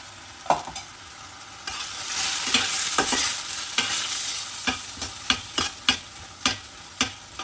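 Homemade masala is added to frying chana masala and stirred. A loud sizzle rises, then crisp, evenly spaced spoon scrapes against the pan follow. No one talks.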